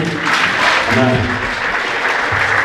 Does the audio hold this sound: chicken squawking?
no